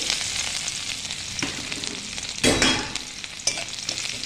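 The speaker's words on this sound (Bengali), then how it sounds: "রসুনগুলোকে একটু আমি ভেজে নিচ্ছি।" Chopped garlic frying in hot oil in a wok with dried chillies, nigella and cumin seeds, a steady close sizzle with a few louder scraping stirs.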